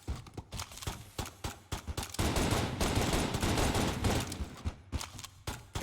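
Enemy bullets in Enter the Gungeon, played in turbo mode, crackle in rapid, irregular volleys that swell into a dense, sustained barrage mid-clip before thinning into scattered pops.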